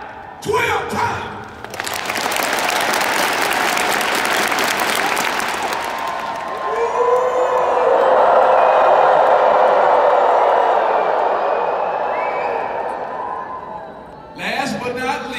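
An audience at a large annual convention clapping on cue, a burst of many hands for several seconds followed by a sustained roar of crowd cheering and applause that swells then fades, with brief talk at the start and end.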